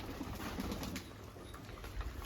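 Soft, low pigeon cooing close by, murmuring continuously under a faint background hiss.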